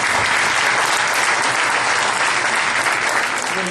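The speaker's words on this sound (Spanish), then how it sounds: "Solicitamos un fuerte aplauso para el panel." Strong, dense applause from an audience for a panel of speakers at a formal event, loud and continuous throughout with no pause.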